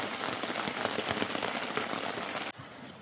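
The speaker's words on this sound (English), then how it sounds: "it just started raining hard." Heavy rain pours steadily on the Lady Evelyn River, a dense hiss of drops pattering on surfaces, dropping abruptly quieter near the end.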